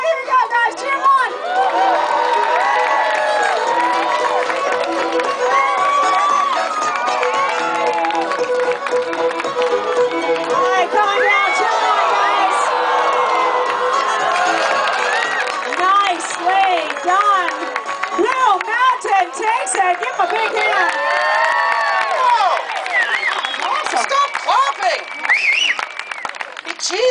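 A crowd at an outdoor lumberjack show cheers, claps and shouts steadily through a race, a dense continuous roar with children's voices and an announcer's talk mixed in.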